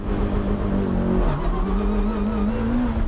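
A car engine held on its rev limiter at 6,000 RPM before a launch at an autocross holds a constant droning buzz, loud and close, without pause.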